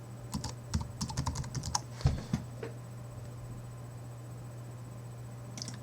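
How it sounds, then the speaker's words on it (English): Quick clattering keystrokes on a computer keyboard rattle for a couple of seconds, close and fairly quiet, then stop, leaving only a faint steady hum. "we are going to type in unique Mario concepts"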